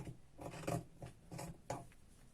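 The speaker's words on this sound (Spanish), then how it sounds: "estamos cortando al margen de nuestro molde" Scissors cut fabric along the edge of a sewing pattern for a child's pajama, a few soft rasping snips in a slow rhythm, close and quiet with no voices.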